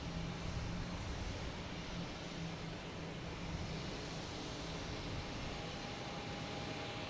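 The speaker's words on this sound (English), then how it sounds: "next taking off is JetBlue heading to Tampa." A JetBlue airliner taking off from Boston Logan bound for Tampa, a faint, distant wash of jet engine noise that stays even and hissy throughout, without any talking.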